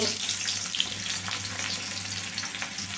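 Onions frying in hot oil for a vegetable and drumstick sambar, a steady bright sizzle with crackling spatters close up and a low hum underneath.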